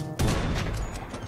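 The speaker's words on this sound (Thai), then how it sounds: "เราจะไม่ยิงไปที่ตัวตรงๆเราลองยิงไปใกล้ๆดูตัวนี้" Gunfire in GTA 5, shots aimed close beside a character: a sudden loud blast opens a rolling burst of reports that rings on and fades slightly, with no voices.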